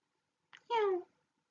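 A single close cat meow, a short soft chirp followed by one clear, falling, drawn-out meow in an otherwise quiet setting.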